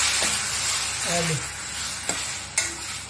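Prawn curry gravy sizzles steadily as it fries in a pan at home, with a spoon stirring and scraping through it and a couple of sharp clinks near the end.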